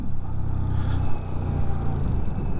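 A Benda motorcycle engine rumbles steadily while being ridden, a low, throbbing drone at close range with slight changes in pitch and no voices.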